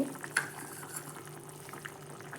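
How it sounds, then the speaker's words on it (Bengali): Fish curry gravy with small fish and pointed gourd bubbling in a pot on the stove, a soft steady simmering hiss with faint liquid bubbling, heard alone without talk. "ঝোলটা ফুটে গিয়েছে"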